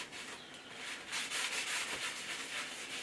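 Grease and wood dust being rubbed and scrubbed out of a sliding table saw's table, a soft continuous scraping and brushing in repeated strokes, quiet and close with no talking.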